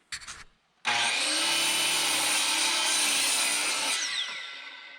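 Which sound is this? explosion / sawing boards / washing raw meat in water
sawing boards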